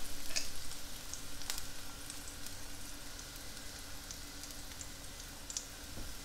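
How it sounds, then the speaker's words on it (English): Garlic and pepperoncini sizzle in hot oil in a home kitchen pan, a steady soft crackle and hiss with a few sharper pops, close but fairly quiet, with no voices. "Here goes the garlic. I'll put a little bit of pepperoncini in here."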